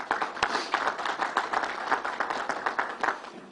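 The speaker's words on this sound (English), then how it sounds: "Let's give them a round of applause." An audience at a governor's announcement event for a new Islanders arena applauds, a steady wash of many hands clapping at a moderate distance that continues throughout.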